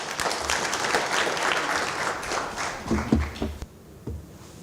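An audience applauds public sector executive Valerie Nyandoro at a Liquid Home event in Zimbabwe; a moderate round of many hands clapping that thins out near the end, with a few louder single claps before it drops away.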